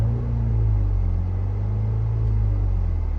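A 2025 MINI Countryman S All4 accelerates, a steady low engine rumble with road noise heard from inside the cabin, even and continuous throughout.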